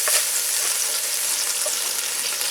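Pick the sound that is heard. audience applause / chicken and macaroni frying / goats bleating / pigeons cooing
chicken and macaroni frying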